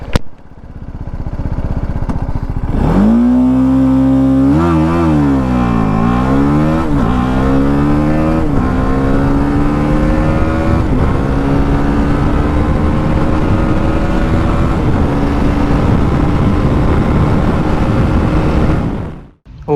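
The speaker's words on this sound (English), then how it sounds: "let's do a quick acceleration test on the BMW G310GS." BMW G310 GS single-cylinder motorcycle accelerating hard from a launch, its engine note climbing through several gears with brief dips at each shift, then holding a loud, sustained drone before cutting off at the end.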